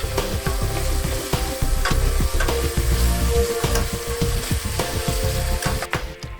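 Garlic powder being stirred into chicken sizzling in a pot, a steady loud frying hiss with repeated scraping and clinking stirs throughout, no talking.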